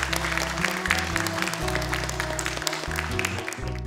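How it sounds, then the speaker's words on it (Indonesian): Studio audience applauds the seven contestants at a Hafiz Indonesia 2021 Quran memorization competition broadcast, a steady wash of clapping running throughout over low sustained background music. "Boleh tepuk tangan untuk ketujuh peserta kita."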